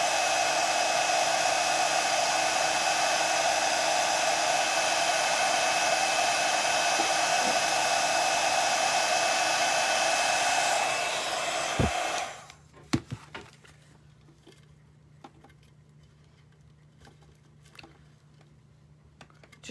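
Heat gun blowing hot air onto WoodUBend moulding pressed against a terracotta plant pot, a steady loud roar for about twelve seconds before it switches off, leaving faint taps and handling noises.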